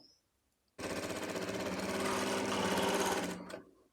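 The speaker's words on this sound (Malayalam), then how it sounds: "നമ്മൾ നെറ്റ് ഫാബ്രിക്കിലുള്ള നെറ്റിൽ നമ്മൾ ഫൂട്ട് വെച്ചിട്ട് കുഞ്ഞു കുഞ്ഞു ഫ്രില്ലുകളാണ് കേട്ടോ ഇട്ട് കൊടുക്കുന്നത്" A sewing machine runs in one steady, fast burst of about three seconds, stitching small frills onto net fabric with a presser foot, close and loud after a quiet start, with no talking.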